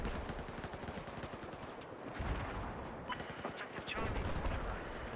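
Rapid bursts of gunfire in a first-person shooter match, dense and continuous with sharp cracks layered over a busy battlefield din, fairly loud throughout with no talking.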